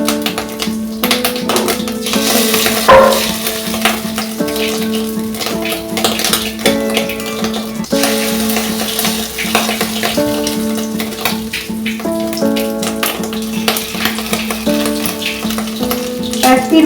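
Small fish roe fritters fry in a hot wok over a low gas flame, making a steady, crackling sizzle with light taps and scrapes. A faint tonal sound continues in the background.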